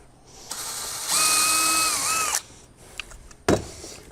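A power drill pre-drills screw holes in a deck landing, spinning up for a sustained whining burst of about a second and a half, followed by a few sharp clicks and a knock.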